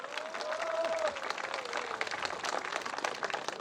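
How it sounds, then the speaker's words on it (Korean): A crowd outside Jeonju Station at a political campaign rally bursts into steady, dense applause, with a whistle or shout rising early and mixed cheering voices under the clapping throughout. "우리 택시 기사님들한테 박수 한번 더 보내주시기 바랍니다"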